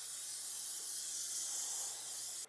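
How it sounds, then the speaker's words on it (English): Nonstick cooking spray hisses from a can into a casserole dish in a home kitchen, one continuous close, loud spray lasting a couple of seconds before cutting off abruptly. "We're going to spray it with some nonstick cooking spray"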